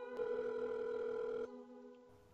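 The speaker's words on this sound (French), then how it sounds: "elle a pris son téléphone pour appeler." A steady telephone dial tone hums as a call is placed, continuous for over a second before cutting to a quieter, fainter tone, with no talk over it.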